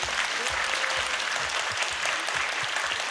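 An audience at a book concert gives a full, steady round of applause to welcome a Seoul National University professor, dense clapping filling the room evenly from start to finish.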